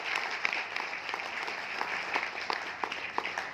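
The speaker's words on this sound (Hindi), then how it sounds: "एक बार सर के लिए जबरदस्त क्लैप करें" Audience applause in a hall during an educational event, steady dense clapping with a few sharper claps standing out, moderately loud throughout.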